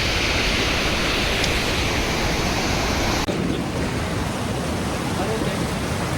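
A river rushes along steadily on a mountain trail, a broad continuous roar of flowing water close by that dips briefly in level midway before carrying on unchanged.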